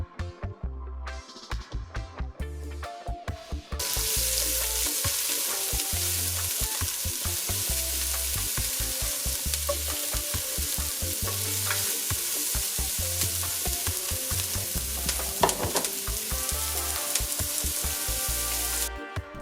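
Chopped onion sizzles in avocado oil in a cast iron pot, a loud, steady frying hiss that kicks in after a few seconds of clattering and stirring and then holds unbroken for the rest of the stretch.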